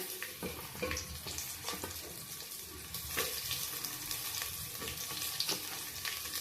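Raisins, onion and chillies frying in a pan for a hotel-style Kashmiri pulao, a steady close sizzle with scattered sharp crackles and pops throughout, no voices.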